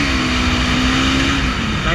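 A Bajaj Pulsar NS 200 BS6 motorcycle engine drones loud and steady at high RPM, heard close up while riding, with no pause across the short stretch.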